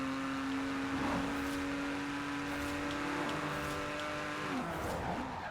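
A Porsche 911 Carrera 2 Guntherwerks driven in Forza Horizon 4 holds a loud, steady engine drone, then drops pitch as it shifts near the end.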